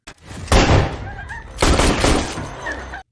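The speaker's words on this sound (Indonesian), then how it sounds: "Tapi Dr. William tidak memberikannya dan kemudian terjadilah baku tembak." A gunfight in a Resident Evil game cutscene, with two dense bursts of rapid gunfire and clattering impacts, loud and close, and faint tonal sounds between and after the volleys.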